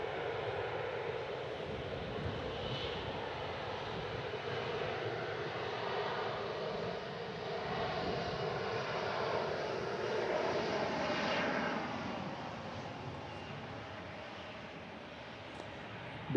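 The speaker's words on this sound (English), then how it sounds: "Look at that massive plane." A British Airways airliner at San Francisco International Airport produces a broad, steady jet roar from some distance, swelling slightly and then easing off over about sixteen seconds.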